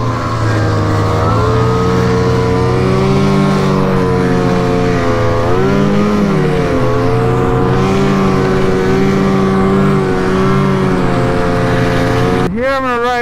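A Ski-Doo MXZ 600 snowmobile engine drones loud and close while riding through snow along a ditch, its pitch steady with slight dips and rises before a sharp rev near the end.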